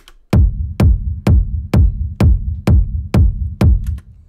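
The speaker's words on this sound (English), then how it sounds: "That's the low part of the rumble." A techno rumble bass, the low-pass filtered low end in Ableton, thumps in eight evenly spaced pulses, each a loud deep hit swelling and decaying in a steady rhythm, with no voices.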